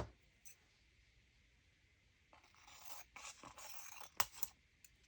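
Scissors cut through thin cardboard from a pasta box in quiet, uneven snips and rasping scrapes, faint and close, growing busier toward the end with a few sharper clicks.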